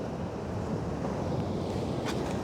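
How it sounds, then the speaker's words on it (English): Steady wind and surf roll continuously on a beach, a broad even wash of ocean noise with no voices. "So nice to see the waves here."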